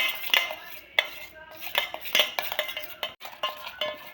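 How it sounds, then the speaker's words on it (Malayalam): Cake batter is mixed by hand in a bowl, with quick irregular clinks and scrapes of a spoon against the bowl, close and fairly loud, with short pauses. "ഇനി നന്നായിട്ട് മിക്സ് ചെയ്യാം."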